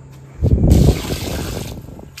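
Water poured onto potted plants, a short gushing splash that starts abruptly, swells loudly, then tapers into a softer trickle before stopping.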